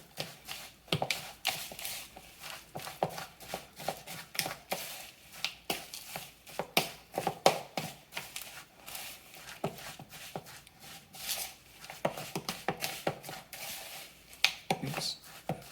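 White chocolate energy ball ingredients being stirred in a bowl, with repeated close scraping and tapping of a spoon against the sides in an uneven rhythm, fairly quiet and steady throughout with no talking.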